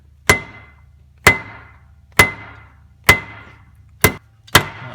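A steel pilot bearing is driven into place with a hammer, six sharp metallic taps at a steady, unhurried pace, each ringing briefly over a low hum, close and fairly loud with no talking.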